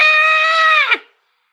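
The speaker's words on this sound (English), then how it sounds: "On the Ferengi ship, there's another scream." A single high, shrill scream aboard a Ferengi ship, held steady for nearly a second before cracking and cutting off abruptly, loud and close with nothing else around it.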